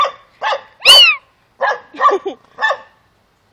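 Puppies bark in a run of sharp, close, loud yips and barks, about six bursts spaced irregularly, one higher whining yelp among them, with no talk.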